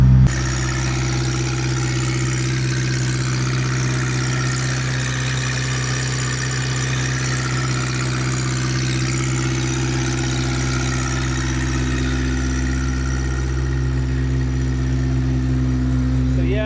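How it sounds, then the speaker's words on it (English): A Honda S2000 engine idling just after being started, a loud, steady, low rumble with a constant hum that holds unchanged throughout, close by. "I don't want the engine to poop out on me"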